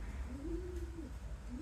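A pigeon coos once, low and soft, in a loft of racing pigeons on eggs, against a steady background hum.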